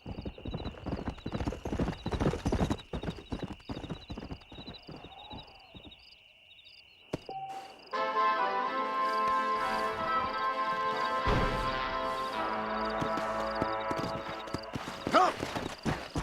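Horse hooves clip-clop in a rapid, close rhythm in Red Dead Redemption on Xbox Series S, with a neigh and night ambience of owl hoots. After a pause, a musical score and voices take over.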